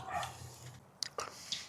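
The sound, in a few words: dog barking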